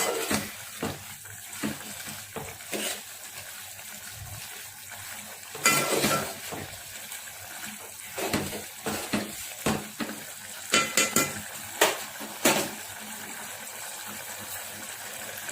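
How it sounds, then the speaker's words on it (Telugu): Jaggery being stirred into simmering dal until it melts, a soft bubbling bed broken by repeated ladle scrapes and clanks against the pot, busiest toward the end. "బెల్లం కరిగేంత వరకు ఇలా కలుపుకుండాలి"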